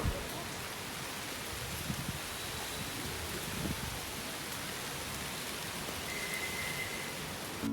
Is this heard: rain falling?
yes